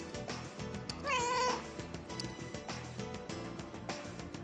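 A cat meows once in Devil Survivor 2, a wavering, drawn-out cry that rises briefly above steady game music and sound effects.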